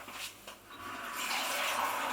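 Cold tap water pours into an Instant Pot over levelled dried chickpeas, a steady close rushing splash that starts softer and grows fuller and louder as the pour continues, with no talking.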